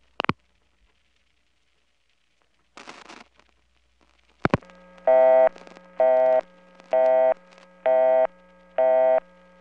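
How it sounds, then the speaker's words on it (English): Busy signal on a 1979 step-by-step telephone exchange call in Atlanta, heard as five evenly spaced loud tone bursts over a low steady hum, preceded by a few sharp clicks and a short burst of switching noise. "all that explanation and I just got a busy signal"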